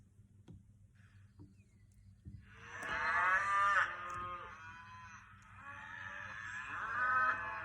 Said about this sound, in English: That is the sound of a cow.